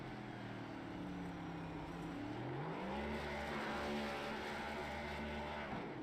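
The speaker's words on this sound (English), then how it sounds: "as he's out there doing his burnouts" A race car in a sim racing video game roars through burnouts, its engine revving and climbing in pitch with a steady, continuous drone and some tire noise.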